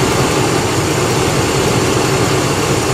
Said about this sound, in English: now I'm going to shut the engine and restart it